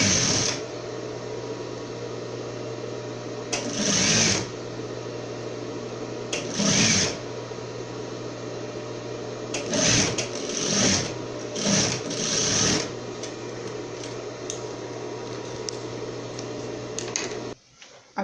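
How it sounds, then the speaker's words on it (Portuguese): An overlock sewing machine sews elastic in several short bursts of fast whirring stitching over a constant motor hum, with pauses between runs. "Agora eu vou costurar o elástico no overlock."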